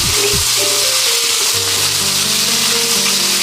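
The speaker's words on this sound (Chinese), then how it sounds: "姜蒜花椒炒香" Ginger, garlic and Sichuan pepper frying in a wok, a loud steady hiss of hot oil sizzling close up alongside a low tonal hum, with no voices.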